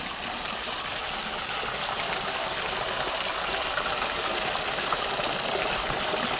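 Water rushes steadily over a small waterfall stream at Sirumalai, a continuous broadband gushing roar close by that fills the whole stretch with no pauses or voices.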